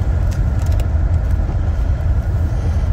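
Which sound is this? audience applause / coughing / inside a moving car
inside a moving car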